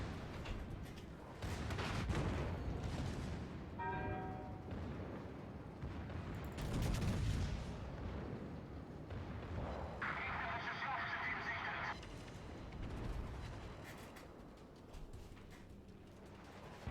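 Rapid booming gunfire and rolling blasts from warship secondary guns in World of Warships, a dense, continuous barrage of mechanical clatter and thuds with a brief bright metallic burst partway through.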